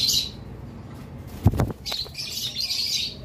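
Lovebirds chirping in a pair kept for sale, bursts of high tweeting calls at the start and through the second half, with a brief flutter or rustle in the middle; no talk.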